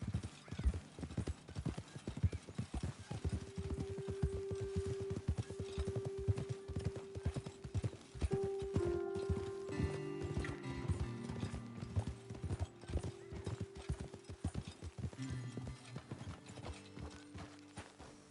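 Horses' hooves clip-clop steadily in a video game, a rapid, even rhythm of sharp hoof strikes that carries on for the whole stretch under game music and mechanical ambience.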